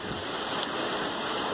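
Steady rain falling outdoors in the evening ahead of Tropical Storm Nana's landfall, a continuous broad hiss with gusting wind and no distinct drops standing out, no voices.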